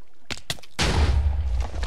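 A cannon fires in the video game Pigs and Waffles: a few soft clicks, then a sudden deep booming blast that rolls on with a rumbling tail, loud and close.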